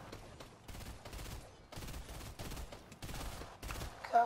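Repeated bursts of rapid Fortnite gunfire crackle in uneven volleys, fairly quiet and processed, with brief pauses between them.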